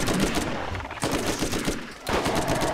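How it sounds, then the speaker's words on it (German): Gunfire from the video game Borderlands, loud and dense, with sharp repeated bursts crowding a busy game soundscape; a sniper rifle is the weapon being fired, though the individual shots blur together. "Ja, guck dir mal die Sniper-Waffe an. Ich schieß drauf und die Hälfte weg."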